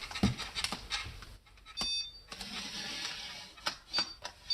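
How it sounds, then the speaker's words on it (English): An electronic stud finder slid across an interior wall gives off several short, high beeps at irregular intervals, quiet and close, mixed with light handling noise. "let's take the stud finder and see if we're right"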